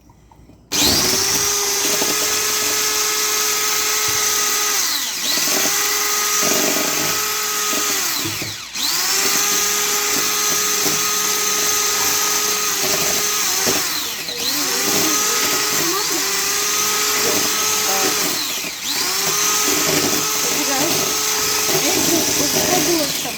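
An electric hand mixer whirs steadily through walnut tahini cake batter, a loud continuous motor drone with brief dips as the beaters shift, lasting over twenty seconds.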